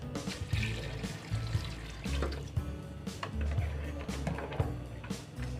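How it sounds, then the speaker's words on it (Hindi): About a litre of water pours into a cooking pot of goat trotters, a steady splashing and gurgling that runs with small clinks throughout, close and fairly loud. "इसमें डालेंगे हम 1 लीटर के करीब इसमें पानी डाल देंगे"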